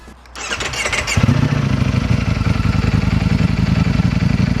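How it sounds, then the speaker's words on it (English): A Ducati Streetfighter V4S with its stock exhaust cranks briefly and fires up, then settles into a loud, steady, throbbing idle close by, with no talking over it. "Let's hear my stock exhaust, which, to be honest, probably one of the best stock exhausts I've actually ever heard."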